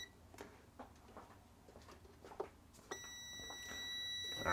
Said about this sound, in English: So I'm just testing continuity.